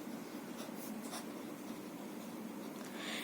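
A pen writing out simple terms during a physics lesson on measurement error, giving a steady, continuous scratchy stroking with brief louder strokes, close up and without speech.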